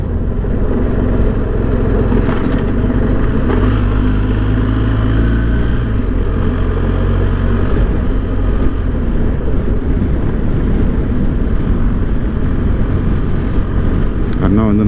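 Off-road enduro motorcycle engine while overtaking, a constant loud low drone with brief rising revs early on, heard close under someone talking.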